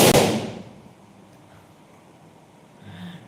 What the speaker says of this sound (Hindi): पटाखा फूट रहा है